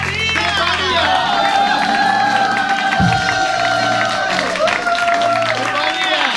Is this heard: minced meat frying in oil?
no